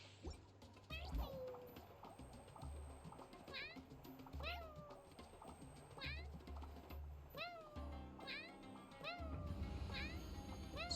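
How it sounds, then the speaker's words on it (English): A cat meowing in the Genshin Impact video game, a series of short repeated meows over game music and ambient effects, with some voices in the background. "It's always just the same two meows."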